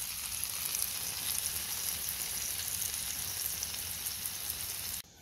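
Pineapple upside-down pancakes sizzle on a Blackstone griddle, a steady, close frying hiss that holds even for about five seconds before cutting off abruptly.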